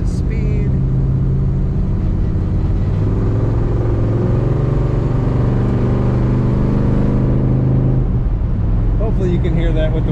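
A 1971 Chevrolet Nova two-door sedan accelerates on a highway, its engine rumble building steadily and loud from inside the cabin with the windows up, then easing off near the end.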